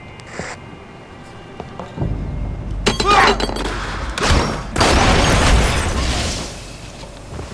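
Gunfire and impacts in Splinter Cell: Conviction, a quiet lull broken by loud bursts of shots, shattering debris and booming hits that come in clusters over several seconds.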